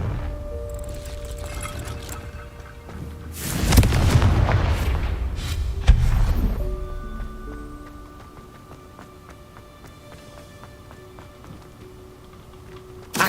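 Confringo spell blast in Hogwarts Legacy erupts as a loud, booming explosion with rumbling debris, a second sharp crack about two seconds later, then fading into quieter game ambience.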